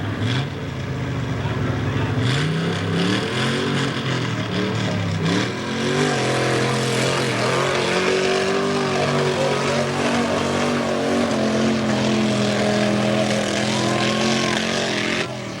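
A 1974 Toyota truck roars loudly through a mud bog run at a mud bog competition, its engine pitch rising and wavering as it revs, with crowd and announcer noise behind it.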